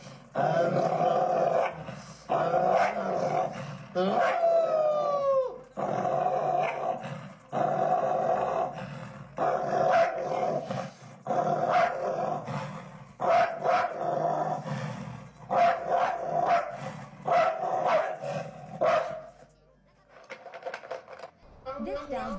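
A dog in a video being played growls and snarls in rough bursts with occasional barks, heard at a moderate level while people talk over it throughout.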